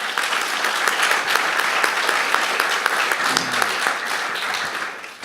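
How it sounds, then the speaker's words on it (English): Sustained applause from a symposium audience fills the room, a dense, steady wash of many hands clapping at even loudness with no one speaking over it. "Let's give them a round of applause."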